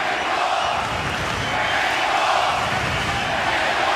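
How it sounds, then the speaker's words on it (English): Boxing arena crowd at the MGM Grand Garden Arena roaring steadily through a Pacquiao–Marquez fight, a loud, dense, continuous wall of cheering and shouting with no pauses. "the crowd is really into it here at the MGM Grand Garden Arena"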